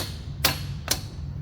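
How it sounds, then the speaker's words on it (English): Two sharp metallic hammer strikes on a stuck wheel bearing on a Volvo semi truck's drive axle spindle, about half a second apart, close and crisp, over a faint steady hum. "I've hit it with a hammer 100 times"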